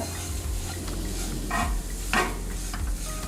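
Chili powder roasting in hot oil for Kerala mango pickle, a steady close sizzle with a spoon stirring and scraping the pan in a few brief bursts, no voices.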